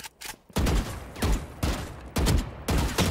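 Rapid bursts of gunfire in the video game Valorant, about five sharp, loud shots spaced unevenly, each with a punchy low thump and bright crack, heard alone without talk.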